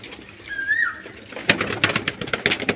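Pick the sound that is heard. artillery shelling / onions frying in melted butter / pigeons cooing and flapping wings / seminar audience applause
pigeons cooing and flapping wings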